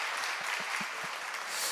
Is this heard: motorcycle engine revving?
no